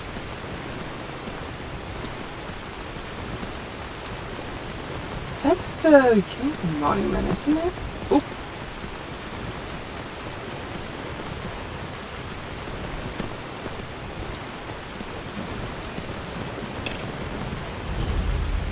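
Steady rain in the Skyrim video game, falling as a constant soft hiss throughout, with people talking briefly over it midway.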